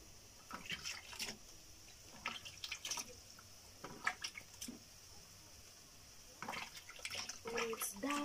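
A kitchen knife rinsed under water in an African village kitchen before cutting avocado: soft splashes, drips and trickles in scattered bursts, quiet and close, with faint voices in the background.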